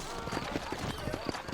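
Horse hooves clip-clop in a quick, even rhythm in a Red Dead Redemption street scene in New Ulster, steady and mid-distance under a man's speech.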